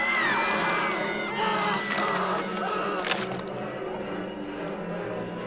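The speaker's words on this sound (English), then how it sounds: "the crowd around her became louder. It started whistling and roaring" A crowd in the video game Tiny Bunny roars, with high whistles piercing a dense, sustained wall of noise that thins out near the end.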